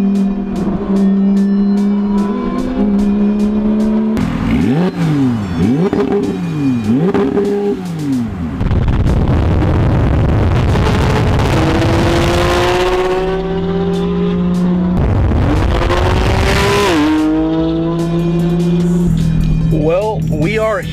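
A BMW M2, a Porsche GT3 RS and two Lamborghini Huracans rev and accelerate loudly nearby, engine notes rising and falling in repeated pulls with occasional tire squeal, while people talk throughout.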